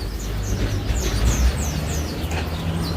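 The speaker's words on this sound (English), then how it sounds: "And I hear birds." Birds chirp faintly in short repeated calls over steady street noise and low traffic rumble on 8th Avenue in Sunset Park, a Chinatown neighborhood in Brooklyn, New York City.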